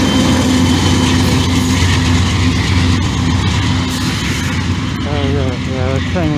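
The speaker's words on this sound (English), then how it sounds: "Yeah, that train was hella loud." A loud train rumbles past close by, a steady heavy roar with engine drone and rail noise filling the whole clip, and a voice briefly heard over it near the end.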